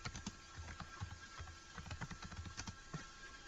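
Rapid clicking of computer keyboard keys while JavaScript code is typed, an uneven run of close, light taps with short pauses between them, and nobody speaking.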